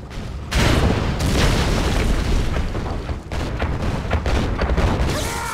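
Missile explosions in the video game Red Alert 2: a loud, sustained roar of booming blasts that rumble on for several seconds, with rattling bursts and crackles running underneath.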